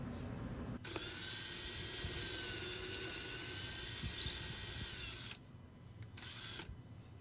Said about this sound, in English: we're just drilling the same kind of pilot holes for the wires on the light posts